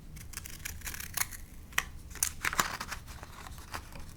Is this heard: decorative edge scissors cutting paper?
yes